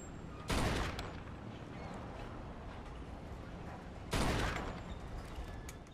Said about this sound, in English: Quick shot with a pistol.